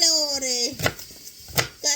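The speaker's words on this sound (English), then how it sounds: "let's cut the celery" Celery being cut with a knife in a home kitchen while vegetable pasta soup is prepared: two or three distinct chopping knocks, with brief tonal background sounds before and after.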